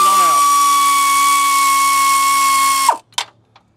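An air ratchet whines in one long, loud, steady burst while breaking loose water pump bolts on a 2002-2009 GMC Envoy in a yard, then cuts off, followed by a few short clanks.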